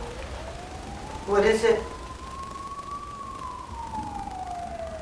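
A siren wails in the distance, one long rising and falling tone sweeping across several seconds, while a person briefly asks a question partway through.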